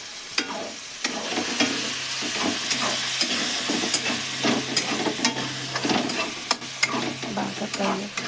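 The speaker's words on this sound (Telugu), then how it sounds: "బాగా ఫ్రై చేసుకోండి, పచ్చి వాసన పోయింటుంది." Tomato paste fries in a pan for an Indian potato and poppy seed curry, making a continuous soft sizzle with frequent scraping stirs and occasional sharper clicks of the utensil, close and without talk.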